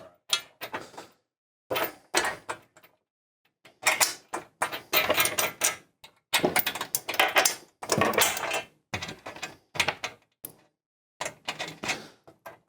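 Wrench and socket tightening bolts while assembling a Versa press, heard as a close series of rapid ratcheting clicks in irregular bursts separated by short pauses, with no speech.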